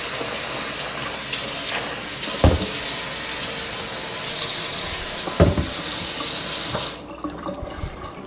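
Water gushing from a pipe tap onto dough for Jamaican boiled dumplings, a loud, close, steady splashing rush with a couple of heavier thuds, cutting off near the end to leave faint drips and handling noises.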